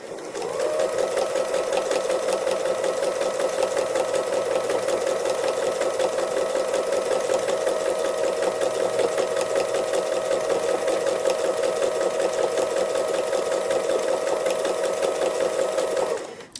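A domestic sewing machine stitches free motion embroidery of hearts in one steady, continuous whir that holds for about sixteen seconds without a break.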